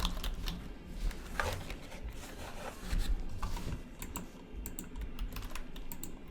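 Someone types on a computer keyboard during a chemistry lecture, a steady run of close, rapid clicks and taps with no talking over them.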